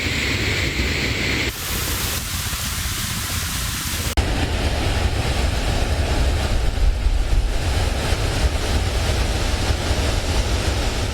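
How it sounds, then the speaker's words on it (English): Flood water pours over the overflowing reservoirs in a steady, loud roaring rush that continues without a break. "several reservoirs are still overflowing"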